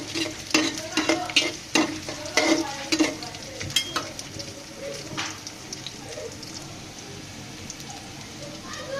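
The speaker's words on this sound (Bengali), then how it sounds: "পেঁয়াজগুলো দেখুন আমি একটু ব্রাউন কালার করে নিয়েছি।" Browned onions fry in a pan and get stirred for a hilsa fish curry. Quick, close spatula scrapes and stirring clatters come over a soft sizzle, then ease off into a quieter fry.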